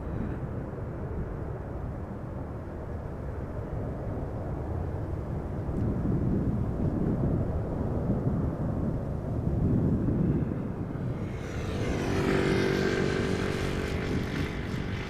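A passing aircraft at Amsterdam Schiphol Airport, a low broad engine roar swelling in the middle and then giving way to a brighter whining tone near the end.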